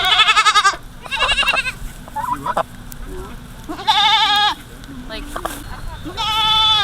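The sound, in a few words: goat bleating on a homestead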